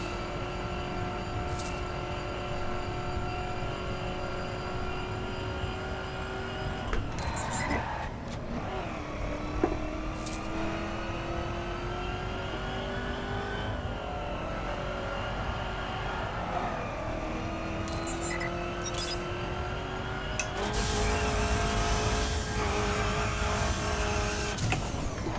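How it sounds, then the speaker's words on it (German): A car engine in the racing video game The Crew holds a steady drone with gradual pitch shifts as it changes gear, rising to a louder, brighter roar near the end, with no voices over it. "Der Motor klingt langsam ein bisschen gelangweilt."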